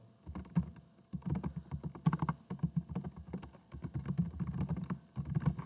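Steady typing on a computer keyboard while entering a date and name into a React beginner project form, with rapid close key clicks in uneven bursts and brief pauses, no voices.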